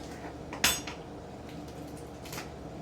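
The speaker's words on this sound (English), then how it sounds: "So let's cut the stem out." A knife cuts the stem out of a dinosaur kale leaf on a board, giving one sharp clack followed by a few faint, quick scrapes, close by.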